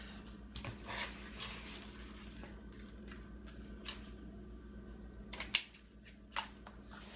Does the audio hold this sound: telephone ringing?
no